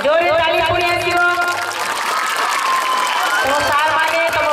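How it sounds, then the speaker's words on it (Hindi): Audience applause at a school golden jubilee celebration: sustained, dense clapping from a crowd, loud and continuous, with a voice or singing carrying over it. "जोरे ताली पुणी आसीबो"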